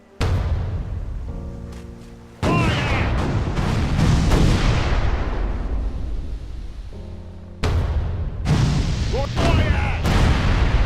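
Heavy ship cannon blasts in the video game Furious Seas boom one after another in rolling volleys, loud and close, with crackling debris and a lower hum between the bursts.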